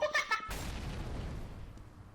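Grenade explosion in the CS:GO video game: a sudden muffled boom that decays into a rumbling tail over about a second and a half, preceded by brief game sounds.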